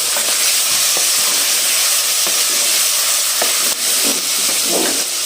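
Potato and carrot sabzi fries in a pan with a steady, continuous sizzle and hiss, close and loud, with occasional soft stirring clicks and no voices.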